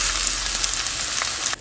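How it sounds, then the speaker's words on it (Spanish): Chopped large tomatoes frying in a pan, giving a steady close hiss of sizzling that cuts off abruptly at the end. "3 jitomates picados, son jitomates grandes."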